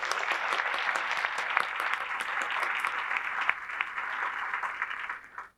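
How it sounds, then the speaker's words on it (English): Audience applause at the 2025 Athena Awards ceremony, steady dense clapping held for about five seconds before fading out quickly at the end. "Another round of applause."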